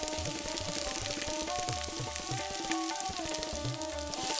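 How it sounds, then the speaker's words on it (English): Onions and whole spices fry in hot oil in a Dutch oven, giving a steady, close sizzle that runs unbroken through the clip, with a tonal background layer beneath it. "I cooked our whole spices in our hot oil in our Dutch oven for 30 seconds. And then I added the onions."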